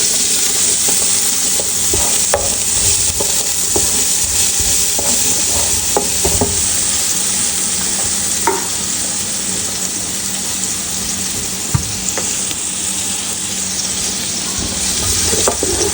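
Garlic and onion sizzle loudly in a pan for steak and wine spaghetti, a dense continuous frying hiss with scattered scrapes and clicks of a utensil stirring, close up and steady, with no talk.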